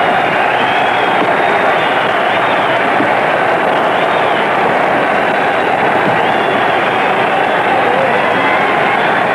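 A boxing crowd at a 1919 Jack Dempsey fight roars continuously, a loud, unbroken wall of cheering and shouting throughout.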